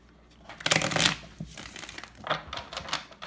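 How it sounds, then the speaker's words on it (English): A tarot deck is shuffled up close before a reading: quick riffling bursts of card edges flutter and slap, with a brief pause between rounds and no speech. "I'm going to pull out 3 cards for each of the signs."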